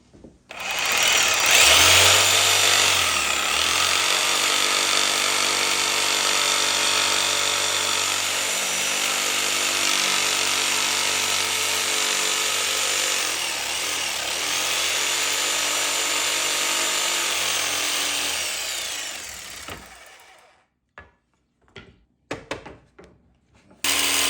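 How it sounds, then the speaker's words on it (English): A jigsaw cutting wood, a loud continuous buzzing whine held for about twenty seconds with slight dips as the cut progresses, then stopping abruptly and leaving a few light clatters. "The jigsaw is going to be a little bit more stressful on this than the circular saw was."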